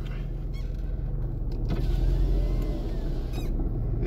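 An Alfa Romeo 75 engine idles just after being started, giving a steady, low, even rumble throughout with no voices.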